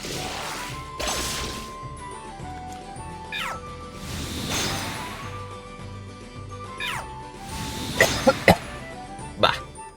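Harsh coughing fits repeat every couple of seconds, each a rough burst with a throaty edge, loud and close. Sharp clacks and game sounds land among the later coughs.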